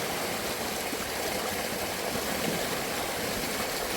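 Water steadily rushes out of a fish pond being drained in Kenya, a dense, constant outdoor gush with no pauses and no voices.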